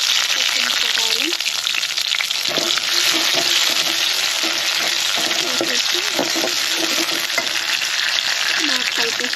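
Green chillies fry with a loud, constant sizzle in a pan while being stirred, with faint clinks of the utensil and a voice talking quietly underneath.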